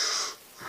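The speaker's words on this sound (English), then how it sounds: "I'll do it with reverse breathing this time. I inhale, raising my head, and I exhale, lowering." Reverse breathing done as an exercise, a breathy wheezing inhale while the head is raised, loud at first then fading, with a second breath starting at the end.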